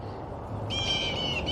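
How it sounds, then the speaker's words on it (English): Blue jays call from partway through with a harsh, raspy cry that carries over a low outdoor rumble. The calls are brief and moderately close, with no talking. "Blue jays. Oh, they're noisy."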